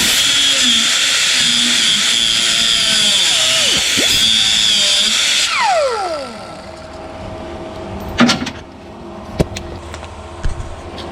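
A power tool works on the bolts of a 24-foot pontoon boat, whining loudly and steadily at first, then spinning down with a falling pitch, followed by a few sharp metallic clunks and knocks.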